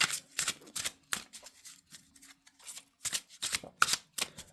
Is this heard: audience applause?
no